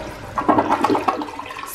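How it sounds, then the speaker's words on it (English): A freshly cleaned household toilet flushes in one short, close rush of gurgling water that rises and fades within a second or so, with no talking. "Go ahead and give it a good flush."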